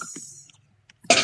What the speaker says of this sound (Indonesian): Cuma batuk doang